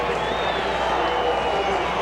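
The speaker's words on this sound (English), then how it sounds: "So there is this huge crowd." Huge crowd cheering at the 2006 Champ Car Mexico City race, a broad steady roar of voices filling the air with a commentator talking over it.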